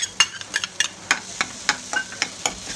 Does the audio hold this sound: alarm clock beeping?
no